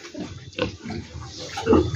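Pigs grunting and snuffling close by at a farm pen, with a short run of rough, low grunts and some wet, splashy background noise.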